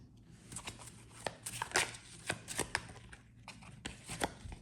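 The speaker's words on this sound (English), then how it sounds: "I'm gonna keep shuffling one more time." Tarot cards are shuffled by hand in a quiet room, giving a string of soft, quick riffling flicks and taps in uneven bursts, close and fairly faint, with no talk.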